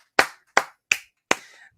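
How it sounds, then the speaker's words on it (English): Four sharp hand claps, evenly spaced and close, each a crisp single smack with a short tail, from a home pub quiz round's applause. "Round of applause."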